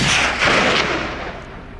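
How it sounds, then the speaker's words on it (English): A single rifle shot fired on a mountainside during a wild boar hunt cracks loudly and rolls away in a long fading echo across the slopes. "The gunshot echoed through the mountains."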